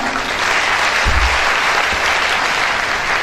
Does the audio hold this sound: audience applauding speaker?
yes